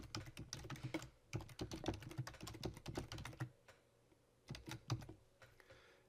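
Typing on a computer keyboard, quick irregular bursts of clicking keys in two longer runs and a shorter one, close and clear with short pauses between.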